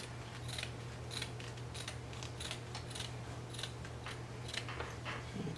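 Scissors snip repeatedly in a quiet room, trimming the seam allowance on fabric, with a steady run of close, crisp cuts over a low electrical hum.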